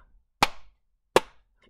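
Two loud, sharp hand claps spaced about three-quarters of a second apart, demonstrating a slow clap, with near silence between them and no talking.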